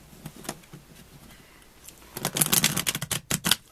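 Someone riffle-shuffles a deck of tarot cards. Soft handling sounds come first, then a dense, crisp burst of rapid fluttering card riffles, up close and without speech.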